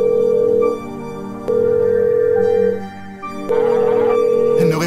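Telephone ringing in the horror video game Horns of Fear, a tonal ring that repeats in long sustained bursts with short gaps, heard over a low background hum.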